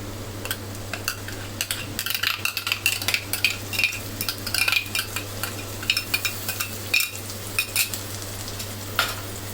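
A green chili and spinach paste with onion, garlic and ginger sizzles steadily in a pan while a spoon stirs it, making irregular scraping clinks against the metal close up.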